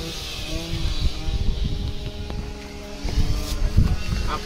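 A motorcycle engine runs at the Carcassonne 24-hour endurance race, idling with a steady low hum and a rough, pulsing rumble close to the microphone, with wind noise around it.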